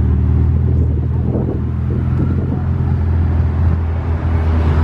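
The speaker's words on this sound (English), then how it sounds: "The SVJ is rolling out." A Lamborghini Aventador SVJ supercar rolls out of a car meet, its engine a loud, steady low rumble held throughout with a slight surge midway, with faint crowd noise in the background.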